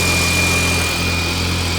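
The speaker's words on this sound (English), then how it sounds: "Your turbo is crazy sounding. Sounds like a jet." A turbocharged BMW E30 engine runs smoothly and steadily right after an injector fix. A deep, even rumble sits under a high, jet-like turbo whine that stays constant and close.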